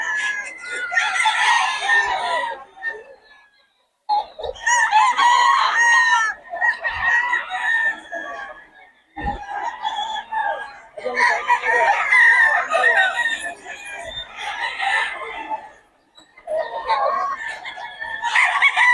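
Roosters and hens at a poultry market in Bocaue crow and cluck loudly nearby, with overlapping calls in bursts and short gaps between them.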